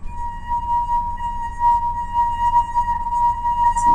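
A rubbed wine glass sings with a steady, clear ringing tone that holds loud and unbroken, swelling slightly in places, with a faint clink near the end.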